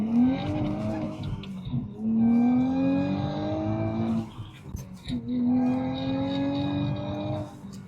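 Tuned Nissan Z engine revving hard through first gear, two long rising pulls with a brief shift gap between them, loud and close with no talking.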